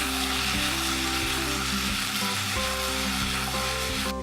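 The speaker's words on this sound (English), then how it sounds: "I'm going to stir the potatoes, and I want them to be nice and golden and cooked through" Potatoes frying in oil in a pan while being stirred for a tortilla, a loud continuous sizzle with a low steady hum under it and no voices.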